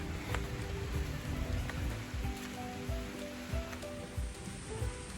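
Steady rain patters on a surface, with scattered heavier drops and a continuous wet hiss throughout.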